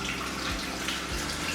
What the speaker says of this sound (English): We're going to add 600 grams of water to our bowl.